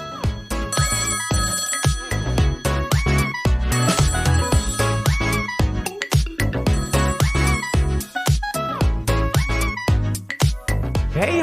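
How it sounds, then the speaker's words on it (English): A telephone ringing in repeated bursts, loud and close, with musical tonal patterns throughout. "Uh-oh, phone's ringing."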